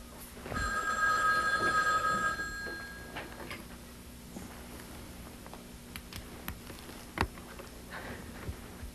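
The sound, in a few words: telephone ringing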